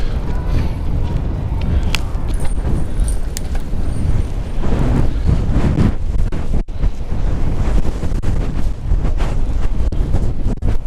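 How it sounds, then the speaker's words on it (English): Strong wind roars and buffets continuously against the microphone, loud and rumbling throughout with no letup. "Man, that's some serious wind."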